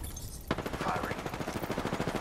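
Rapid automatic gunfire in the Apex Legends video game, a sharp first shot followed by a dense, evenly spaced burst of rounds lasting about two seconds.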